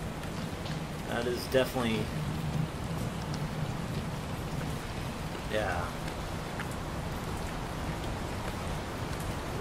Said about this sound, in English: Raining pretty good, too.